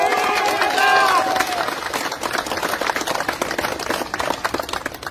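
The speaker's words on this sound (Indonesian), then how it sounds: "Berikan tepuk tangan yang meriah" Crowd clapping and applause at a peaceful public rally by Batak youth, dense broadband patter filling the whole stretch, loud and close, with voices and a brief tonal shout mixed in early on.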